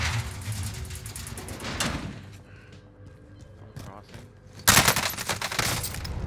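Rapid MP5 gunfire in Call of Duty Warzone on Rebirth Island, bursts at the start and a louder stretch near the end, with players talking over the game audio.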